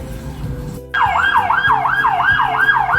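An ambulance siren wails in a wavering up-and-down pattern in city traffic in Tirana, Albania, cutting in loud and close after a second of road rumble and holding steady over the traffic noise.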